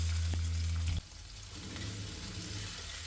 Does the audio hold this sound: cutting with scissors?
no